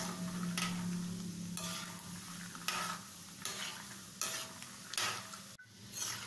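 Half a cup of peanuts frying in oil in a pan for corn flakes chivda, a steady sizzle broken by several scraping stirs of a spoon, close and moderately loud, with no talking.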